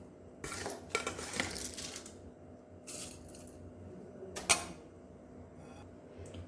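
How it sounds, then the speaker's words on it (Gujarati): Washed fenugreek seeds go into a metal pressure cooker in several short rattling, clinking bursts, quiet and close, separated by near-silent gaps. "પ્રેશર કુકરની અંદર ધોયેલી મેથી એડ કરી દઈશું"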